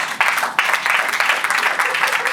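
Audience in a comedy club hall breaks into sustained applause, a dense wash of clapping that swells in a few surges across the whole stretch, fairly loud and close.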